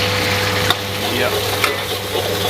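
Constant sizzling from fried rice with dried shrimp being stir-fried in a wok over high heat, with a couple of sharp metallic clanks of a utensil against the pan.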